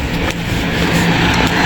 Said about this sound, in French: On n'entend pas avec des voitures, c'est chiant.